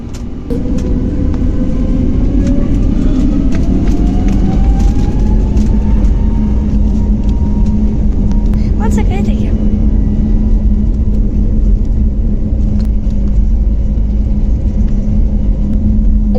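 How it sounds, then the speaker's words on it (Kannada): A passenger plane takes off with a loud, steady engine roar and deep rumble that holds throughout, a whining tone slowly rising early on. "ನಾನು ಪ್ಲೇನ್ ಟೇಕ್ ಆಫ್ ಆಗೋದನ್ನು ಯಾಕೆ ಹಾಕಿದ್ದೀನಿ"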